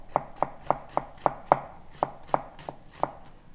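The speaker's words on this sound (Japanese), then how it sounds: "紫玉ねぎは芯の部分を取って薄切りにしていきます。" A knife thinly slices a cored red onion on a board in a steady run of about ten crisp, evenly spaced cuts, close and clear with no talk.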